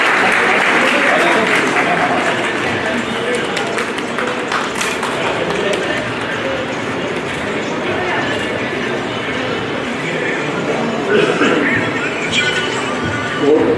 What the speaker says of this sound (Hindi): वो हसन साहब को जोरदार तालियों से रिसीव करें